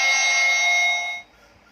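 A bright, sustained electronic correct-answer chime from a quiz buzzer system rings for just over a second with a steady tone, then stops cleanly, leaving quiet.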